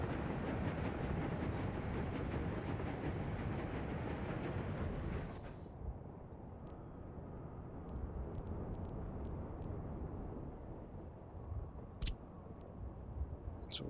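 Two trains in a city-building game haul coal, giving a steady rail rumble and clatter that fades after a few seconds, followed by scattered sharp clicks over quieter background hum.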